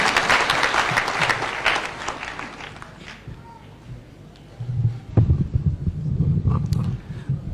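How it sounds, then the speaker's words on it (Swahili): A crowd at an outdoor political rally in Laikipia breaks into applause for the deputy speaker, a dense clapping wash that fades midway before a fresh burst of claps and cheers picks up again. "Mpigeni makofi anapokuja."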